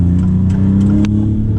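A 2024 Maserati MC20 sports car engine hums and pulls steadily in first gear, a constant droning rumble up close with faint clicks and rattles over it.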